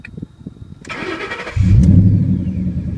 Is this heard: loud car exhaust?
yes